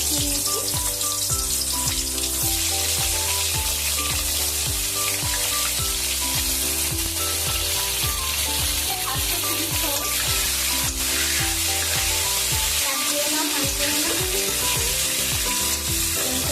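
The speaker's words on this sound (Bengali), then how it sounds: "এবারে মানে এই তেলে আমি কাঁকড়াটা ভেজে নেব" Crab pieces fry in hot oil with a continuous sizzle running beneath loud, steady background music that masks much of the frying.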